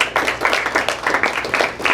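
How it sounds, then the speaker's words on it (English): A short burst of clapping, several hands applauding together in a quick, uneven patter, fairly close and steady throughout. "Let's give her a round of applause."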